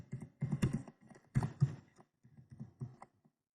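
Quiet, sparse clicking of typing on a computer keyboard, a few short bursts of keystrokes with brief pauses between them.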